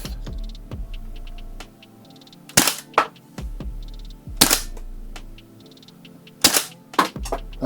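A Rare Arms AR15 CO2 blowback airsoft rifle fires BBs during a chrono test: about four sharp, loud, close cracks spaced a couple of seconds apart, each with a metallic bolt clack and faint mechanical clicks between shots.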